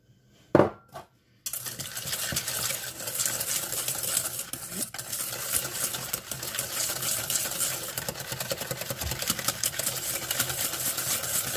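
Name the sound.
mixing egg yolks with sugar in a bowl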